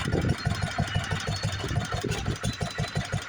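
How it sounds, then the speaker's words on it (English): An International LA stationary engine driving a 1910 Deyo lineshaft machine shop, chugging loudly and steadily up close in a rapid, even rhythm with a broad mechanical clatter throughout. "We're running it with a 3 to 5 International LA engine."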